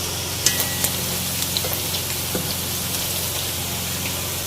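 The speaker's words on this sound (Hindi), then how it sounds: "2 से 3 मिनट तक हमें इन सब चीज़ों को फ्राई करना है" Nuts and spices frying in a pan for a reshmi chicken curry, a soft continuous sizzle with scattered small pops and crackles, fairly quiet and steady with no talk.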